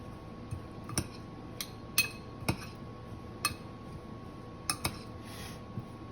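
A utensil stirs shrimp taco filling with lime and jalapeno in a bowl, producing light clinks and taps against the bowl at uneven intervals, quiet and close over a low steady background hum.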